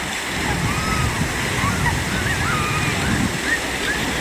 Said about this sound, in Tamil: அலையெல்லாம் செம்மையாக வந்துட்டுருக்கு